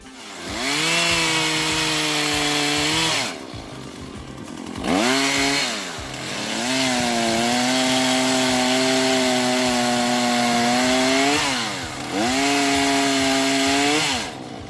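A Husqvarna 120 Mark II gasoline chainsaw runs loudly up close, revving high in several long bursts separated by brief idling drops.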